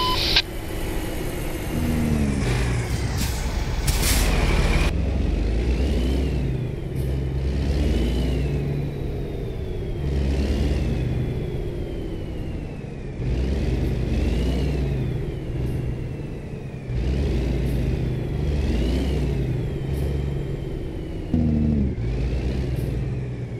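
A Kenworth truck engine runs close by with a deep, steady rumble, revving up repeatedly in rising surges across the whole stretch, loud and continuous with no talk over it.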